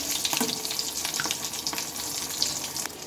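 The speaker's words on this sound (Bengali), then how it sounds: "বেশ লাল লাল করে আমি ভেজে নিচ্ছি" Food deep-fries in hot oil until red and crispy, giving a loud continuous bubbling sizzle up close for a few seconds, with no voices.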